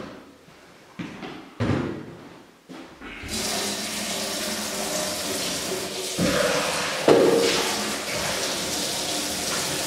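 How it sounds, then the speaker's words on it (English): Tap water pours into a fermenter for a sugar wash, starting with a few short bursts and knocks before settling into a steady, close rush of filling water. "You fill your fermenter to about a third of the way."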